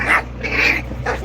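A dog gives three short, high, yelping barks, close by and fairly loud, spaced evenly over about a second with a steady low hum behind.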